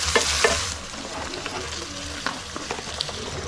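Onions cook in oil in a pan for Ethiopian firfir, a continuous close sizzle broken by occasional light scrapes and taps of a stirring utensil, with no one speaking.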